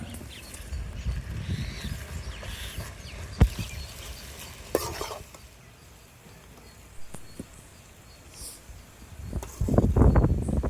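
Ginger garlic paste fries and sizzles with chicken for a ghee roast, with a few stirring scrapes and clanks of a utensil. The frying is soft and low for most of the stretch and grows louder near the end.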